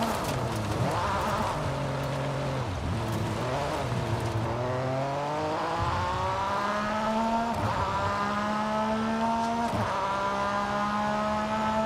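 Porsche 911 RSR race car engine in Forza Horizon 5 revs loudly and continuously through repeated upshifts, pitch climbing then dropping with each gear change, alone with no talk.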